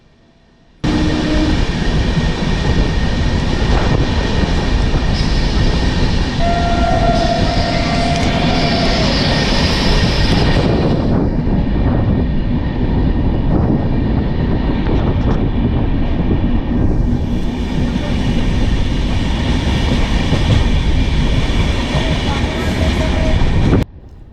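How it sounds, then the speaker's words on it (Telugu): A loud Kanyakumari Express train rumbles past close by, a continuous roar of wheels and carriages that dips briefly midway and then swells again before cutting off. "మనకు అలా ట్రైన్ వెళ్ళిందో లేదో చూడండి, ఇంకొక ట్రైన్ అయితే వస్తూ ఉంది"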